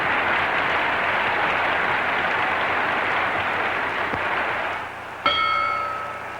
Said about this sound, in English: Crowd senses some action as the bell comes and ends the round.